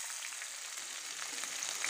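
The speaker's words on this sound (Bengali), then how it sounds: "রসুনগুলো আমার একটু একটু ভাজা ভাজা হয়ে গেছে" Chopped garlic and green chili fry in hot oil with black cumin, a steady soft hiss and crackle heard close and alone, faint but unbroken.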